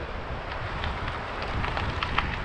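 Strong wind buffets the microphone during a gravel bike ride in a constant rumbling roar, with faint scattered crackles on top.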